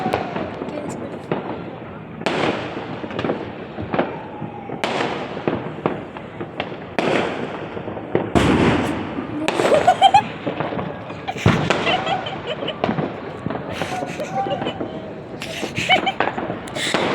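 Loud New Year firecrackers burst repeatedly, near and far, with sharp bangs and crackling echoes overlapping through the whole stretch, voices faintly mixed in.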